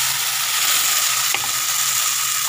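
Spice paste hitting hot oil in a pan of fried potatoes and fish, a steady close hiss of frying with a brief clack partway through.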